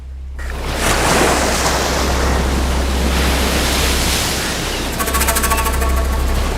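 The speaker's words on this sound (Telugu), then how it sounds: "ఏంటి సముద్రంలో ఇలా గాలులు వస్తున్నాయి?" Strong wind roars over the sea in a dense, continuous, loud rush with surf-like texture, steady throughout and heard alone without speech.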